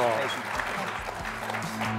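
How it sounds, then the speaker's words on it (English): Conference audience applauding a panel on spectrum for 4G and 5G networks, with dense, steady clapping filling the room throughout, and a voice speaking over it. "I'd ask for a big round of applause for, uh, for our panelists"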